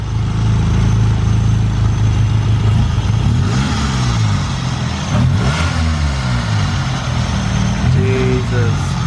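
A drift car engine revving while parked, a loud close rumble that rises and falls in pitch through several revs, with people talking over it.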